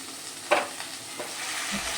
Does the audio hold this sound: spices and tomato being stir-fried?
yes